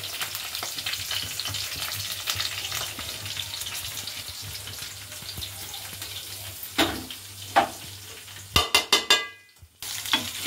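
Tempering spices of chana dal, peanuts, mustard seeds and urad dal frying in hot oil give a steady close sizzle, with a few sharper crackles and pops near the end. No one speaks.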